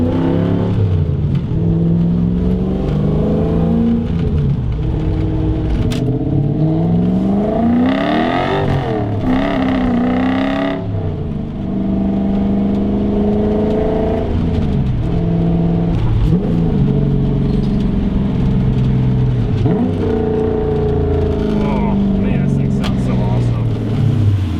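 A drift truck on stiff coilovers driving on the street: a loud, steady engine drone that rises and falls in pitch as it revs and shifts, close and continuous throughout, with a person talking over it.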